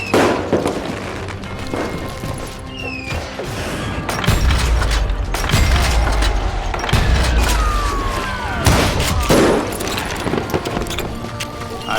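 Rapid bursts of gunfire in the Call of Juarez Gunslinger western shooter game, dense and loud with repeated sharp cracks and heavy thuds over roughly twelve seconds, with occasional whistling ricochet-like tones mixed in.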